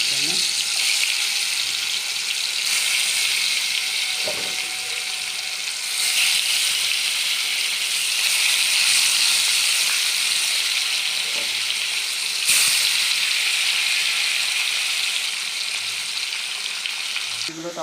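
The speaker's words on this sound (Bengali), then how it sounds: "তো তেল গরম হয়ে গেছে, আমি ইলিশ মাছগুলো দিয়ে দিচ্ছি ভালোর জন্য" Hilsa fish pieces fry in hot oil in a pan with a loud, steady, close sizzle that runs unbroken throughout, broken only by a few faint clinks.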